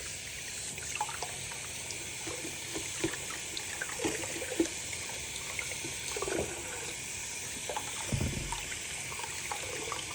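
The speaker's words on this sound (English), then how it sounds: "now I'm going to rinse his arm off" Water rinsing a baby's arm, a soft, faint trickle and splash with scattered small drips and a brief fuller pour near the end.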